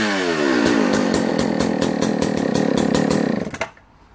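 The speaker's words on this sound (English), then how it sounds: "When this engine's primed, it's just one pull start." A vintage Sachs Dolmar 123 70cc German chainsaw runs loud and close, its two-stroke engine rattling and buzzing with rhythmic revving pulses, then dies away and falls quiet near the end.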